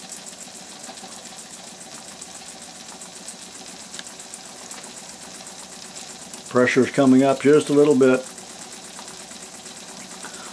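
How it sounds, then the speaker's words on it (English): A small toy steam engine with boiler runs with a steady, fast mechanical chugging and faint hiss of exhausting steam, fairly quiet; someone speaks briefly partway through. "I like to watch the engines at slower speed"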